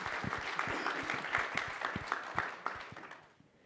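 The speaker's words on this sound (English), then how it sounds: "Round of applause." Audience at an Australian public policy talk applauds a speaker, a steady wash of many hands clapping with sharp individual claps standing out, fairly close and full before thinning and fading at the end.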